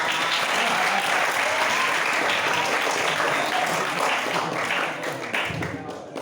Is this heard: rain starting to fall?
no